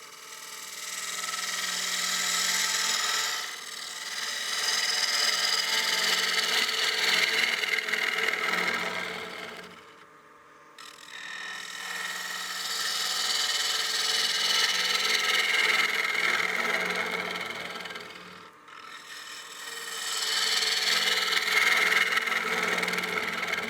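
Partially seasoned wooden bowl spinning on a lathe under a cutting tool, a steady buzzing whir with slight chatter, repeated in long passes broken by two brief pauses where the tool lifts off.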